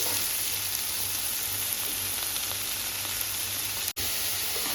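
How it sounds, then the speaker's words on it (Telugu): Ginger garlic paste, green chillies and curry leaves fry in hot oil for a chicken curry, giving a loud, steady, close sizzle that cuts out briefly near the end. "పచ్చిమిరపకాయ కరివేపాకు వేసేసుకోవాలి నెక్స్ట్ అల్లం వెల్లుల్లి పేస్ట్ కూడా వేసేసుకోవాలి"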